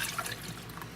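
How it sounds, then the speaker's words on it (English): Boiling water pours into a dish of black raspberry gelatin with a brief, soft liquid splash and trickle, faint and alone. "Now let's go ahead and pour in that boiling water."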